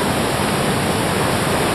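The Poplar River rushing near the Lutsen ski area, a dense, loud and constant roar of flowing water with no pauses or voices.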